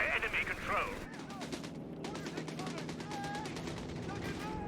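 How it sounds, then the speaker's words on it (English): Rapid machine-gun fire from an aircraft strafing run in Company of Heroes 3, a long rattling burst of evenly spaced shots after a brief stretch of game sound and voice at the start. "Nice, good strafe."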